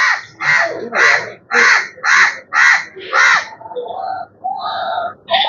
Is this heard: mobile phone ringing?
no